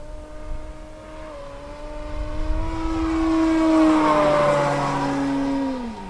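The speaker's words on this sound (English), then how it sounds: "The sound of the engine is not as high pitched as the foamies and stuff." A small 15cc engine on a Hangar 9 Carbon Cub model airplane drones steadily near full throttle, its pitch holding then sliding lower toward the end as it passes, fairly loud and continuous.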